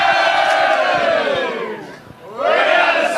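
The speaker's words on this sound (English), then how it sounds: "Lots of cheering happening down here in the rooms." Loud crowd cheering and shouting from Gold Coast Suns players in the rooms after a St Kilda match, a sustained roar that dips briefly then swells again.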